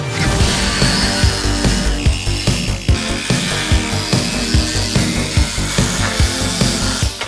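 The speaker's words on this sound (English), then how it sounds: "So yeah, let's shred some metal." A power tool cuts sheet metal on a rusty truck cab corner, loud harsh grinding with a rapid regular pulsing rhythm that runs continuously close by, no voices.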